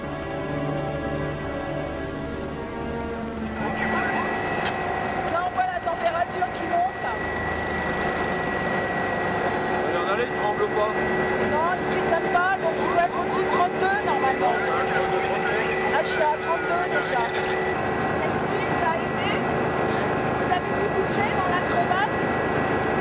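A rescue helicopter arriving at a mountain crevasse, its rotor and engine building in after a few seconds into a loud, continuous beating roar that dominates throughout.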